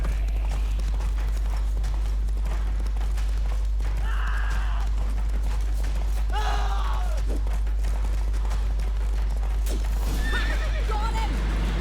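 Roach, Geralt's horse in The Witcher 3, neighs and whinnies repeatedly over a steady clip-clop of galloping hooves, with game music and ambience running underneath.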